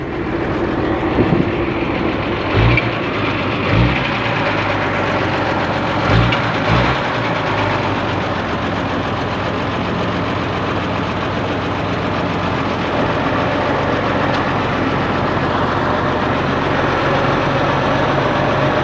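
A 5-cubic-metre dump truck's diesel engine idles steadily and loudly close by, a continuous low rumble with a few brief knocks near the start and no talking.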